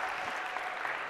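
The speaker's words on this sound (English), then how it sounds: "A bigger round of applause for Jonathan," Applause from a university lecture hall audience, a brief, steady patter of many hands clapping at moderate volume, heard alone without talk.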